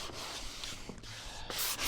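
Sandpaper rubs over wood filler along a cabinet seam, a continuous soft scratchy friction that swells near the end, quiet and close, with no one talking.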